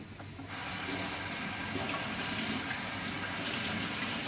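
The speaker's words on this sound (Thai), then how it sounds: "ตักใส่นี่แล้วก็ไปลวกน้ำเย็นเอาไว้" Cold water runs steadily from a tap to rinse cooked squid for a spicy Thai squid salad, a constant close gush that starts after a brief quieter moment and continues without talk.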